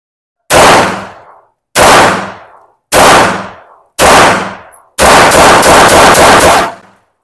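A Springfield Armory XD-M Elite pistol fires four single loud, close shots at even intervals, each followed by a short decaying echo, then a rapid string of shots in quick succession.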